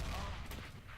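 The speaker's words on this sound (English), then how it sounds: "Throwing a grenade." A grenade exploding in the shooter game CS:GO on the Inferno map, one loud booming blast with a rumbling tail filling the whole short moment.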